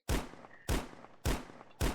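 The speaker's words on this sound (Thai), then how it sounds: "ปืนยิงระเบิดนี่ครับปู กวาดเลยกวาดเลย" Grenade launcher fire from a robot mech in a mobile zombie wasteland survival shooter, four sharp booming blasts spaced roughly evenly at just over half-second intervals, loud and close with brief decaying tails, no voices.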